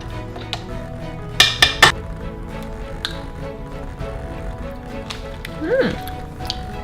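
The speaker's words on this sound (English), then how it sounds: "I'm gonna switch out this whisk paddle for the cookie paddle" A stand mixer's whisk paddle is swapped for a cookie paddle while keto chocolate chip cookie dough is being made, giving a few sharp metallic clinks and knocks over a quiet room.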